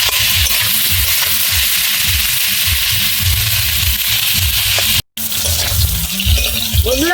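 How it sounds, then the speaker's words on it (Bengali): Cauliflower pieces sizzling and frying in oil with a little turmeric, stirred around the pan with scraping strokes, a steady loud hiss broken by a momentary dropout. "আমি আবার নেড়ে দেবো কপিটা ভালো করে"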